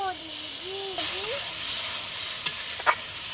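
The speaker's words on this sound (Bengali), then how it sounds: "হলুদ দিয়ে দিলাম, ভালো করে নেড়ে নেব" Potatoes frying in a pan with turmeric, salt and tomato, ginger and garlic paste as a spatula stirs them, a continuous hiss and sizzle with a couple of sharp scraping knocks near the end.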